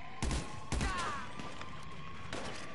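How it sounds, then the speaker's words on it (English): Gunfire during the GTA V prison break heist. Two quick, close bursts of shots ring out near the start, with fainter ambient game sound and a lighter shot afterward. "Somebody's shooting at him now."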